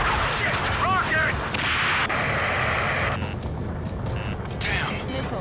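Rocket explosions and heavy gunfire from the air-combat video game Ace Combat 7, with loud booming blasts and whooshing streaks over a continuous roar of engine noise.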